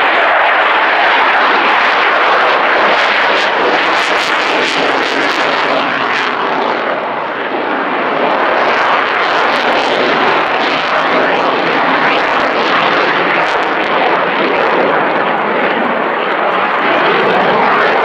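A Mirage 2000 jet flying a full tactical display at an air show, its engine roar loud and continuous throughout, swelling and easing slightly as it passes.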